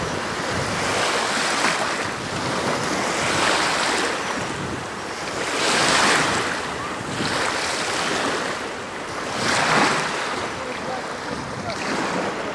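Surf of the shallow Sea of Azov at Primorsk rolls in with loud, repeating wave washes every few seconds, mixed with heavy wind buffeting the microphone.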